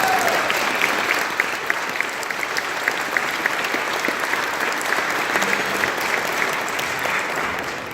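Sustained applause from a crowd at an awards luncheon, a dense, even patter of many hands clapping continuously throughout, with a few sharper claps standing out.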